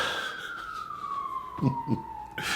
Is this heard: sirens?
yes